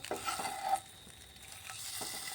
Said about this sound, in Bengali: এইভাবে ওপিট করে একটু সুন্দর করে ভেজে নেবেন